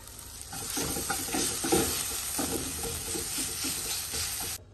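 Chopped tomatoes hit a hot pan and are stirred, a loud close sizzle with busy scraping and clatter that holds steady before cutting off abruptly near the end.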